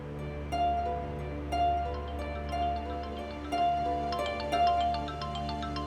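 A phone rings with a repeating melodic ringtone, its clear, bright notes steady and fairly loud throughout, with no talk over it.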